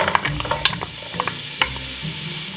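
Onion and carrots sizzle in melted butter over medium-high heat for a Depression-era goulash, a close crackling hiss broken by brisk scraping and clacking of a spoon stirring against the pot.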